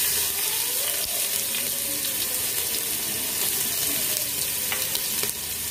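Garlic sizzling steadily in hot oil with cumin seeds, mustard seeds and asafoetida while dal is made, a dense close crackle with faint stirring and scraping throughout, no talking.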